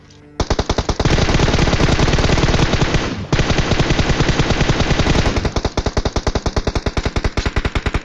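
Rapid automatic gunfire in the video game PUBG rattles in long continuous bursts, briefly pausing, then resuming and thinning into separate spaced shots toward the end, loud and close.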